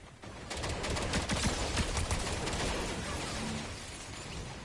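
Rapid gunfire in the video game Fortnite, a dense crackle of repeated shots and impacts that stays loud and busy throughout the short stretch.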